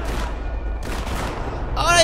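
Gunfire in the video game GTA 5, a short burst of several sharp shots in quick succession with rumbly low background, ending on a brighter clattering noise.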